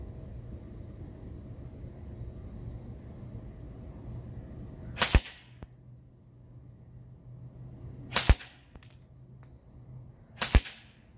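KWA Ronin T10 airsoft pistol firing three sharp, close snaps spaced a few seconds apart, each a crisp loud crack over a quiet background hum.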